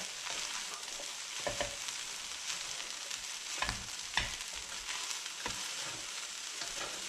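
Peas stir-fried in a pan for fried rice give a steady sizzle, with scattered scrapes and clinks of a spatula stirring through the food, close and alone.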